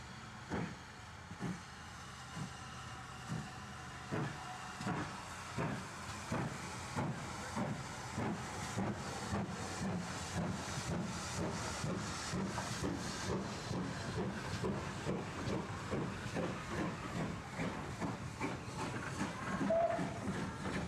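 A preserved Great Western Railway steam locomotive in GWR livery, working on loan at the Nene Valley Railway, Peterborough, hisses steadily with a rapid, rhythmic chuffing pulse that runs the whole time at close range.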